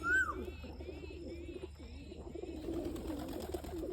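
Pigeons coo in a low, soft, continuous murmur throughout, with a brief higher bird call at the start and faint chirps above, all steady and fairly close with no talking.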